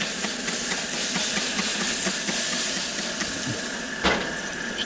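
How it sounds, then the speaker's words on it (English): Steady steam hiss rises from food cooking on a camp stove on a freezing Appalachian night, a continuous close rushing texture with a faint engine-like rumble beneath and one brief louder burst near the end. "put a little bit of steam on that."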